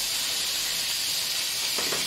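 Butter sizzling in a hot pan for a tomahawk steak, a loud, steady, close hiss that runs unbroken throughout, with a brief scrape near the end and no voices.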